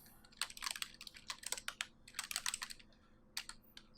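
Rapid bursts of clicky keystrokes on a computer keyboard while code is entered in GameMaker Studio 2, close and clear, with short pauses between flurries and no talking.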